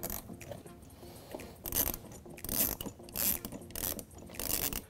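A ratchet wrench with an 8 millimeter socket loosening a hose clamp on the intake of a 2013-2018 Ford Focus ST, several close, rhythmic bursts of metallic clicking separated by short pauses.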